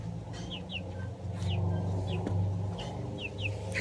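A pet hen clucks in short, repeated calls over a steady indoor hum, the clucks spaced irregularly throughout and fairly close.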